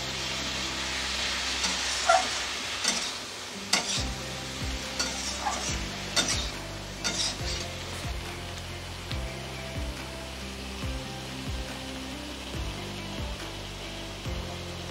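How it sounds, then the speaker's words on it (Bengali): Ginger, green chilli and tomato paste being stir-fried in a pan, a soft sizzle with repeated scraping and clinking of a spatula, alongside a low droning hum, with no talking. "এগুলোকে 5 মিনিট ধরে ভালো করে কষিয়ে নেব।"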